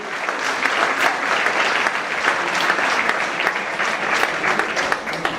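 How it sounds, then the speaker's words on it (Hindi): An audience at a motivational seminar at a coaching academy applauds a student on stage, with dense, steady clapping held at a loud, close level throughout and no talking over it. "एक बार तालियों से मोटिवेट करें बच्चे को।"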